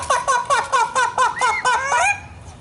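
A trained parrot at a zoo bird show imitates a chicken, giving about eight loud, evenly spaced clucking calls that rise into a final drawn-out crow, close and clear with no talking.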